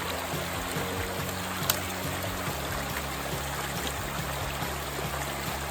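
A stream rushes and trickles steadily through a natural log jam in a continuous flow, close by, with a faint low engine-like hum underneath.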